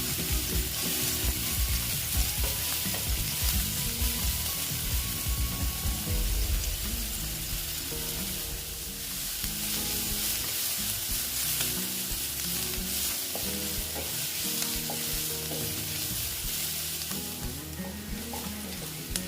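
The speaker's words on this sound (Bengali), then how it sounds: "পেঁয়াজটা প্রায় ভাজা হয়ে গেছে" Onions frying in a pan for a soybean dish keep up a steady sizzle, with occasional scraping and stirring of a spatula against the pan, close and unbroken, with no talking.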